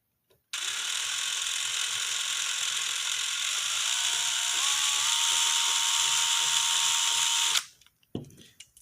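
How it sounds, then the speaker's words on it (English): A small drill with a 7/64 bit bores a hole across a plastic RC truck cab part, a steady high whine that runs alone for about seven seconds with a slight pitch shift before stopping abruptly. "using a drill bit, 7/64 drill bit, drill a hole across"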